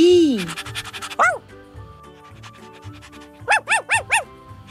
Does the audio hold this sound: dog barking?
yes